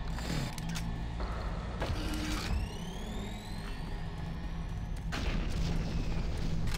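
Grenade blasts in Doom 3 rumble through dense, continuous game noise, with heavy booms and sweeping mechanical tones layered over a constant loud background.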